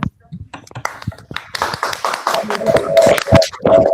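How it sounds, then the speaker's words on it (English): Scattered clapping from debaters over open online microphones, a few uneven claps mixed with overlapping voices talking and a brief tonal chirp from one line. "Now, if you want to open up your microphones and give you a round of applause."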